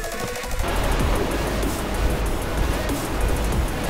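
A Himalayan waterfall and river rush in a dense, constant roar of flowing water, loud and close, with no pauses.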